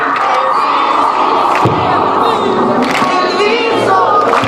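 A large crowd at an outdoor religious gathering cheers and shouts loudly in response, a dense, sustained roar of many voices with scattered louder yells rising above it.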